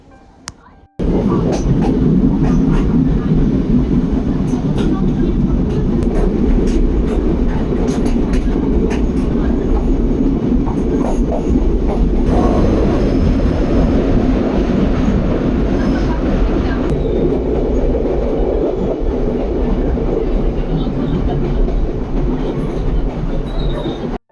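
A train in Japan, on the Gunma-to-Nikko route, rumbles steadily along the rails, with a low continuous roar and faint rhythmic clatter, heard from inside the carriage for a long stretch.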